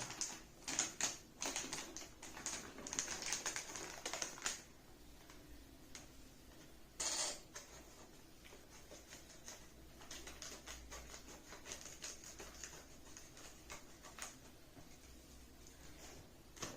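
A Coviself rapid antigen self-test kit being unboxed, with crisp crinkling and tapping of cardboard and plastic packaging in irregular bursts, louder at first and then quieter handling, close up and without talk.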